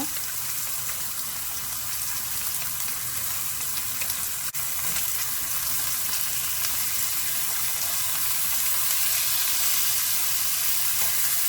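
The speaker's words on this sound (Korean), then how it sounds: "노릇노릇하게 바짝 구워주세요" Pork belly sizzles and fries steadily in a pan while being browned crisp, a dense continuous crackle with no talk over it.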